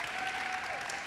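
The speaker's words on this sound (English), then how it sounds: "you can clap for that, that's good." Brief burst of audience applause at a school winter athletic awards ceremony, steady dense clapping from a crowd, moderately loud and without speech.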